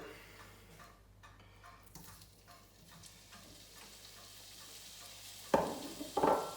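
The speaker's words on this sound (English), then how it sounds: "add a little bit more oil, let that heat up for a little bit, and then get the bacon in" Bacon is added to hot oil in a pan and starts to fry, with a quiet background hiss that breaks into loud sizzling bursts near the end as the meat hits the oil.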